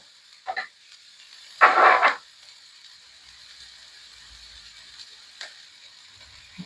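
Food browning in a frying pan with garlic just added, stirred with a utensil: a short scrape, then one louder burst of stirring and sizzle, followed by a quiet, faint background sizzle and a single brief tap.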